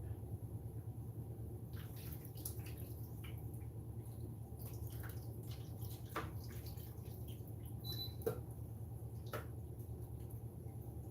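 Thick tomato-based Bloody Mary mix poured over a tray of chicken wings: a soft, faint liquid trickle with scattered small drips over a steady low background hum.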